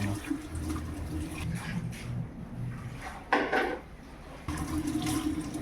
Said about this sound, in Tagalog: Hugasan lang natin guys para